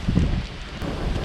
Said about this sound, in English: Oh, this is really windy